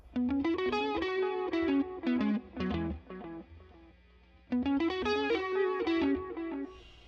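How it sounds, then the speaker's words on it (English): A distorted electric guitar plays a melodic phrase with a delay effect, echoing repeats trailing each note and smearing the line before it restarts. "What if we put a little bit of delay on this thing?"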